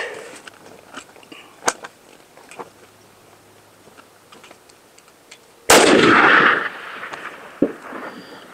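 A rifle shot from a .308 Win or .300 Win Mag firing ELD-X bullets cracks out loud and alone, one sharp blast with a short rolling tail after a stretch of faint ambient ticks.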